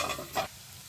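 Tomatoes, ginger and garlic fry in butter in a pan, giving a brief soft sizzle with a short stirring scrape near the middle before the sound settles into a quiet, steady hiss.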